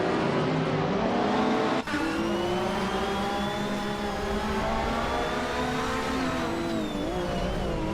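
Racing cars with mid-pitched engines, including a 1966 Porsche 906, roar steadily close by on a tight-cornered circuit, overlapping engine notes rising and shifting as they jostle for position, with one brief dip before the din resumes.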